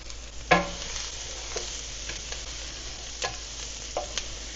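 Homemade ketchup ingredients with a shake of turmeric simmering in a pot, a quiet steady bubbling sizzle with a sharp spoon knock near the start and a few soft stirring scrapes afterward, no voices.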